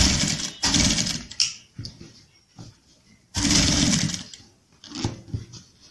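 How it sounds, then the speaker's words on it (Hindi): Bursts of close, buzzing motor noise from a sewing machine stitching the edge of a kurta, starting and stopping several times with short quiet gaps between runs. "अब देखिए ये इस तरह से ये अपन जो है किनार की सिलाई लगा देंगे।"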